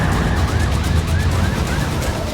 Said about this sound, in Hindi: सायरन की गूंज